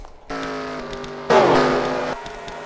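Race cars roaring around the Kansas oval in a racing video game, a sustained engine drone that jumps abruptly louder midway as another car sweeps close, then cuts off.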